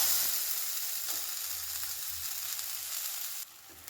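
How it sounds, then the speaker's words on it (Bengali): Ground green pea paste poured into hot oil with asafoetida sizzles steadily in a pan, a continuous hiss with occasional soft scrapes of stirring, no voices. "যে মটরশুঁটিটা আমি বেটে রেখেছিলাম মিক্সিতে এবার সেটা এর মধ্যে ঢেলে দিচ্ছি"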